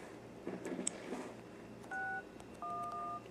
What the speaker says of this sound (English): And we'll do star 611.